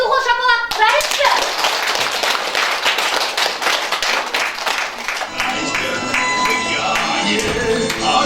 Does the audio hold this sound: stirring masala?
no